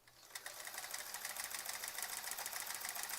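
A sewing machine stitches across a quilt, going back over earlier stitches with a steady, fast mechanical whir that is faint and close, heard alone.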